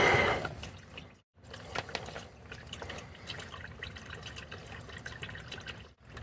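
Engine oil drains from a 2012 Honda Civic into a catch pan, a steady close trickle and splash of liquid running on without pause, with one brief gap near the start.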